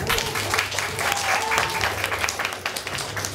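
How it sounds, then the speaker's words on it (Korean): Applause from a breakdancing battle audience, steady but moderate, rising and falling slightly, with low musical tones and some voices faintly underneath. "박수 한번 줄게요"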